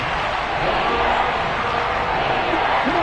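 Roar of a Seahawks stadium crowd during a football game in the red zone, a dense, steady wall of loud cheering and yelling with no breaks.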